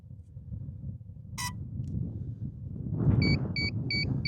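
A short series of high electronic beeps from a DJI Flip drone while pairing, evenly spaced and clear, over low wind rumble outdoors after a single earlier chirp.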